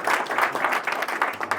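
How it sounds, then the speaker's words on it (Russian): An audience at a Russian talk on boxing, addiction and motivation gives a full round of applause, a dense, rolling patter of many hands clapping throughout with no voices on top. "Обычно мои выступления заканчиваются аплодисментами."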